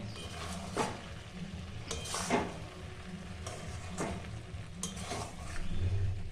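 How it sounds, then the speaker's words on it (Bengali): A spoon scrapes and stirs cauliflower and peas curry in a pan, a few slow sweeping passes over a continuous low sizzle, close and moderate in volume. "একটু মিশিয়ে নেবো হালকা করে"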